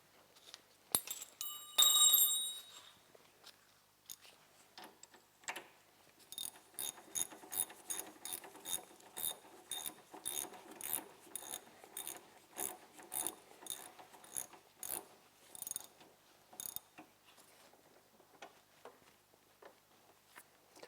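Wrench ratcheting on metal parts while replacing ATV wheel bearings, a long run of quick rhythmic clicks in bursts, close and fairly loud, after a brief metallic clatter at the start.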